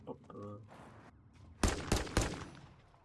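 Three sharp, loud rifle shots from a BP50 in a video game ring out in quick succession after a quieter stretch of game sounds and a short tonal chime.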